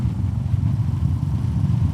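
A Royal Enfield 350cc cruiser motorcycle engine gives off a steady, deep throbbing rumble, close and even with no talking, like a bike idling or cruising.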